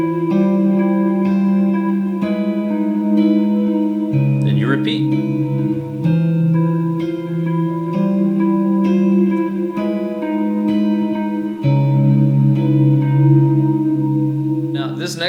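Electric guitar plays a repeating arpeggiated riff with sustained, ringing notes and a wash of echo and reverb, steady and fairly loud throughout.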